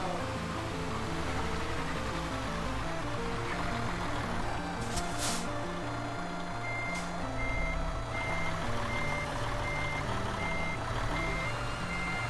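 Reversing alarm of a truck backing into a parking spot in Euro Truck Simulator 2, a steady evenly spaced beeping over a constant engine drone and rumbling mechanical hum, with a couple of brief hissing bursts midway.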